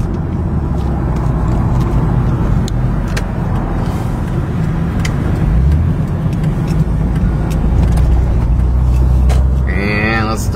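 Cars drive past on Schoenborn Street, a steady wash of road and engine noise with vehicles swelling and fading nearby, and people talking faintly in the background.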